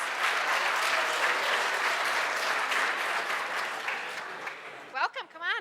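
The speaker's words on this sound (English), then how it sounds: "give them a round of applause" Audience applause fills the room in a full, steady round that tapers off near the end, where a voice speaks over the last scattered claps.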